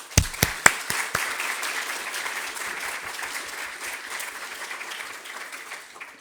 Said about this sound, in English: So I also wanted to give a big round of applause to them as well today